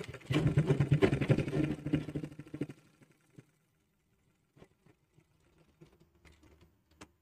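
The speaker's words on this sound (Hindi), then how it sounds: "फ्लाई आपको थोड़ा पीछे करके सिलाई चलाएंगे" Sewing machine running a seam along the fly of a zipperless pant, a dense burst of stitching for about two and a half seconds, then quiet with scattered small clicks and fabric handling.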